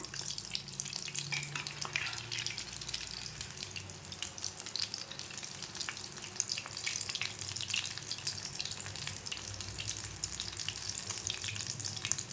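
Potato cheese balls deep fry in hot oil, a dense continuous crackling bubble that stays close and even throughout, with no talking.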